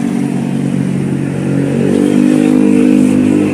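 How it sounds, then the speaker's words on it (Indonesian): An engine runs steadily after starting, a loud continuous mechanical drone that rises into a fuller rev partway through and holds there, with no voices over it. "mesin udah mulai dinyalakan ya."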